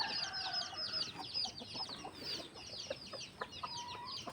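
Chickens cluck and squawk in a steady, busy chorus, several birds calling close by with short overlapping notes and no talking.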